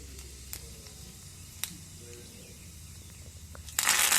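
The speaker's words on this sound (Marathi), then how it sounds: "मोहरी अशी तडतडली ना की त्यात थोडं जिरं टाकावं।" Mustard seeds and cumin in hot oil give a faint background sizzle with a few sharp isolated pops, then a sudden loud burst of crackling erupts at the very end.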